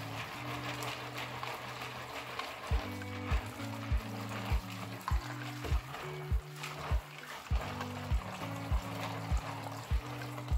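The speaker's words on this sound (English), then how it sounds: "Add a generous quantity of water and set it aside to soak very well." Water pouring steadily into a pot of beans set to soak in a home kitchen, a continuous close splashing trickle with a regular pulse of low tones, no voices.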